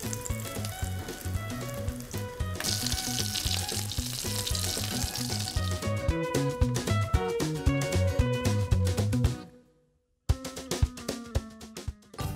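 Floured, egg-dipped fish sizzles as it fries in a pan, Korean jeon made for the Lunar New Year table. The frying crackles loudly and continuously, then drops out abruptly near the end before resuming.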